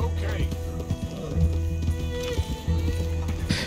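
Horse hooves clip-clop steadily in the video game Red Dead Redemption 2, a close, even rhythm of hoofbeats over a low continuous rumble, with occasional louder transients.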